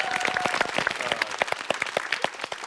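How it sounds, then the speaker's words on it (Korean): A studio audience on a Korean television variety show bursts into sustained, lively applause, many hands clapping together in a dense patter that holds steady throughout. "박수로 다시 한번 맞이해"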